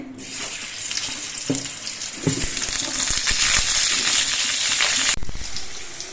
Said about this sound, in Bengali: এবার আলুর পিসগুলো আমি ভেজে নিচ্ছি